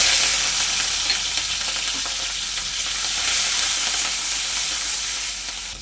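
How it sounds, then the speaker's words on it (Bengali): Steady, loud sizzling of shrimp frying in hot oil, a continuous crackling hiss with no talking. "তেলটা আমার গরম হয়ে গেছে। এবার আমি চিংড়ি মাছগুলো দিয়ে দেবো।"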